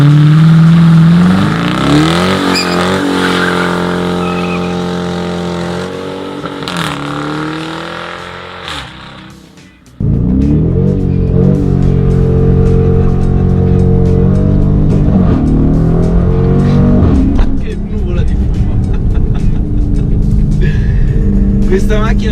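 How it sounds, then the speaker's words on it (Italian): A 2017 Dodge Challenger, an American muscle car, burns rubber with its engine revving hard in rising and falling sweeps, loud and close, cutting out briefly before roaring again. "È un'auto americana, quindi penso sarebbe un vero peccato non bruciare un po' di gomma."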